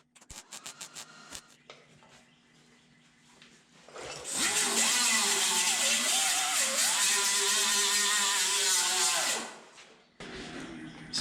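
A Scotch-Brite pad on a power tool scrubs old material off a car firewall with a loud, close whirring grind for about five seconds, preceded by quiet ticking and handling noise, with a brief burst again at the end.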